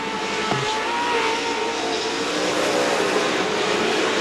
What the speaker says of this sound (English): these guys are racing each other pretty hard right now, which is letting Johnny Greaves have all th